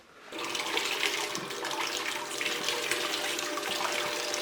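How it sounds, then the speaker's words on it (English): Water rushes at high flow through a spiral gold panning wheel, starting abruptly, then holding as a steady, fairly loud splashing gush with no talk. "High water flow, a bit too fast."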